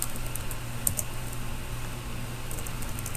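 Fingers typing on a computer keyboard in a quiet room, a few faint, soft keystroke taps in small clusters over a low steady hum.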